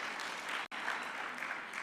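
Audience applause at a local manufacturing summit: a dense, even patter of many hands clapping, fairly faint and distant, with one abrupt momentary cut partway through.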